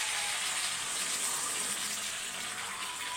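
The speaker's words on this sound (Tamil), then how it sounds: "தக்காளி வந்து நல்லா வதங்கணும்." Tomatoes sautéing in a pan for a tomato kuzhambu, giving a steady, even sizzle and hiss that carries on without a break from start to finish.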